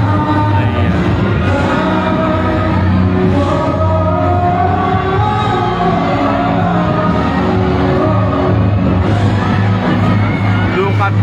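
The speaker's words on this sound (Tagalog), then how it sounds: "Look at the crowd." Large crowd at a mayoral proclamation rally in Manila for the mayor: dense, loud, nonstop hubbub with occasional yells and whoops, and a voice talking throughout.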